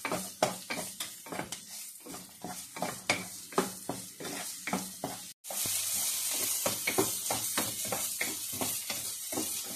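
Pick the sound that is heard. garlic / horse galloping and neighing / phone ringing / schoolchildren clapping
garlic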